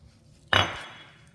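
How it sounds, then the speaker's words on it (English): Glass jars knock together once, a bright sharp clink up close that rings briefly and fades out, with no talk over it. "So I put them in those glass jars."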